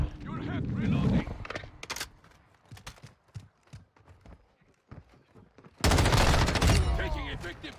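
Automatic gunfire in a Call of Duty match, with a heavy burst up front, then scattered shots and clatter, and a loud sustained volley near the end. Players talk over the action.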